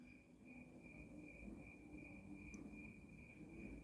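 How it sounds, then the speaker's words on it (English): Crickets chirp at night in a steady, continuous high trill, quiet and somewhat distant, over a low background hum. "The crickets are loud here, which is kind of cool."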